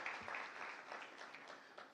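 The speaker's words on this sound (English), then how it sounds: "With a lot of applause, ladies and gentlemen, let's appreciate our doctors." Summit attendees in Nairobi applaud doctors in a soft, fairly distant patter of clapping that continues evenly across the short stretch without fading.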